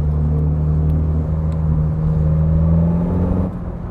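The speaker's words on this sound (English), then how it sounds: "Let's try with the valves closed and see." Ferrari 430 Scuderia with straight-pipe exhaust and valves closed, a deep, steady idle burble with strong low harmonics held close and loud, easing slightly near the end.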